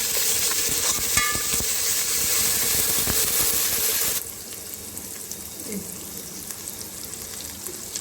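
Ginger-garlic paste sizzles and fries in a pan for egg biryani, a loud, steady crackle that drops sharply to a quieter sizzle about halfway through.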